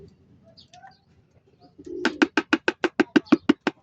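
A racing pigeon released at San Simon, Pampanga claps its wings rapidly on takeoff, a steady run of sharp flapping bursts close by after a few quiet seconds with faint background sounds.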